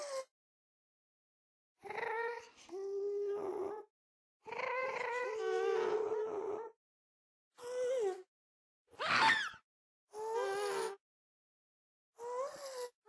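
A series of cat yowls, moans and growling cries from a cat suddenly woken from a nap, used as Minecraft ghast sounds, in short separate bursts with silent gaps between, close and fairly loud, no talking.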